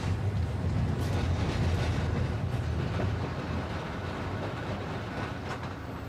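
Steady rumble of an electric tram rolling along rails in Blackpool, a continuous low mechanical drone with faint clicks, fairly loud and close, slightly easing toward the end.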